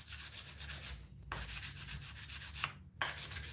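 Abrasive paper rubs rust off a knife blade coated in fluid, in rapid back-and-forth strokes with brief pauses where it is lifted and repositioned, close and steady.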